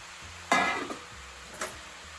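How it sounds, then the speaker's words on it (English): Prawns and cabbage coated in masala are stirred in a pan, giving two short scraping, sizzling bursts, one longer and one brief, over a quiet background. "Just keep stirring it, it will all go down."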